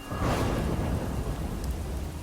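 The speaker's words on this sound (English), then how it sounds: "it started raining" Heavy rain pours with a deep rolling thunder rumble surging near the start, a loud, continuous storm wash throughout and no voices.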